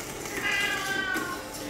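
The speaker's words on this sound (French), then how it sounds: "Ça, c'est mon petit chat qui est en train de miauler." A small pet cat meows in a kitchen while an apple and cinnamon tart is being prepared, one drawn-out, fairly close cry with steady room noise around it.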